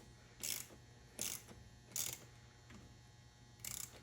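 A hand ratchet tightens an 8 mm bolt on a diesel performance intake for an LB7 Duramax engine, four short clicking bursts spaced about a second apart, close and fairly quiet.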